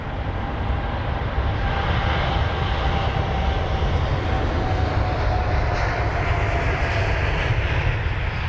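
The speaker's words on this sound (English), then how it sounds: "There goes that American 787." An American Airlines Boeing 787 Dreamliner departs Heathrow with a loud, sustained jet engine roar and a faint steady whine, holding close and powerful throughout.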